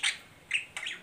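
Three sharp bird squawks sound close and loud: one long call, a short one, then a final longer call, with no voices over them.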